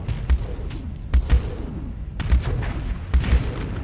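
Ship weapons fire in the space game StarSector, with heavy booming shots landing in pairs at regular intervals over a constant low rumble.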